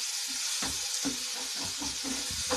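Spice masala with tomatoes being fried in a pan for a dhaba-style palak paneer, with a steady sizzle and hiss broken by repeated stirring scrapes, close and alone without talk.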